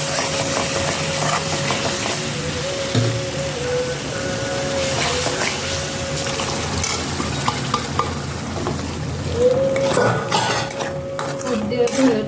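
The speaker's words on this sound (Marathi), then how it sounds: "आता आपण जे उकळून घेतलेले छोले आहेत शिजवून घेतले होते हे मीठ टाकून फक्त ते आपल्याला याच्यामध्ये टाकून घ्यायचे" Boiled, salted chickpeas go into a hot cooking pan for chole bhaji, bringing a steady sizzle with spoon scraping and clinking metal cookware close by.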